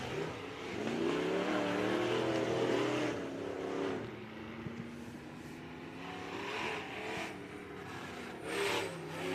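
Race cars lapping a dirt track at a Clarksville event, engines roaring and rising in pitch as they pass at a distance, with a steady crowd-like wash underneath and no talk.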